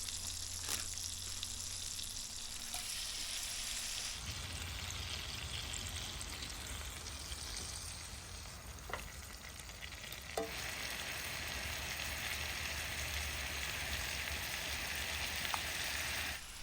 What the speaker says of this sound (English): As soon as those shrimp hit the butter